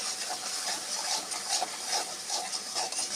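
Spice paste with salt sizzles in a pan, a steady bright crackling hiss with small irregular pops and stirring scrapes, close and continuous, with no talk.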